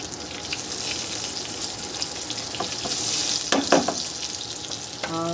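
Red chillies, turmeric and salt sizzle in hot oil with a continuous crackle, broken near the end by a few louder stirring scrapes and a brief clatter.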